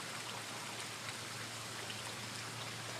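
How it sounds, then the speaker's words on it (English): Steady rain falls during flooding in Houston, a constant soft hiss of drops on surfaces throughout, fairly faint and even, with no voices. "it's supposed to continue to rain more today"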